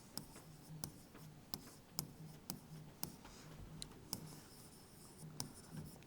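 Pen or chalk writing by hand during a data interpretation lesson, faint scratchy strokes with regular taps and ticks, close and quiet, no talk.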